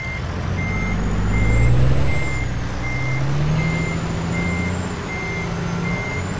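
Truck reversing alarm in American Truck Simulator, a loud, evenly spaced series of beeps over a low diesel engine rumble that swells and eases, with no talking.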